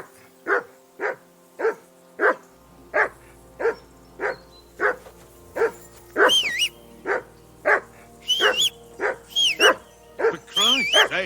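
A dog barks in Kingdom Come: Deliverance II, loud and steady, about twenty sharp barks at a regular pace, with high yips and whines in the later barks.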